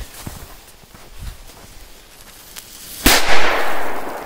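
A firecracker goes off in the snow with one sharp, loud bang near the end, followed by a brief rumbling tail. Faint crackles and soft thumps come before it.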